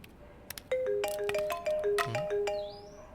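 A mobile phone ringtone plays a bright electronic melody of clear repeated tonal notes, close and loud in a quiet room, with no one speaking over it.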